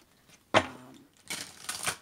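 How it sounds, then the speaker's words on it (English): Tarot cards are shuffled in a few quick, crisp bursts of riffling, close and fairly quiet, with a short pause between the first burst and the rest. "I pre-shuffle, but I'll shuffle again."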